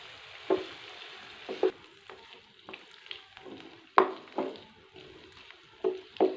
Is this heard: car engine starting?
no